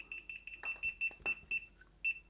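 A LOVALSEA 4D 360° laser level sounds its off-level alarm, a rapid series of about nine sharp, high electronic beeps in a steady pulsing rhythm, close and fairly quiet with faint handling noise underneath.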